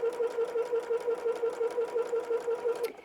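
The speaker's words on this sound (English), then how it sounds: "we're just going to go ahead and sew that seam all the way down this side" A domestic sewing machine runs a seam on a small fabric keychain tissue holder. The needle hums in a fast, even, rhythmic pulse at close range, then stops abruptly near the end, with no speech.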